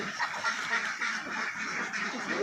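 A large flock of ducks on a small duck farm raising about 250 ducks, giving a dense, continuous chorus of quacking and chatter that stays steady and close throughout, with no talk.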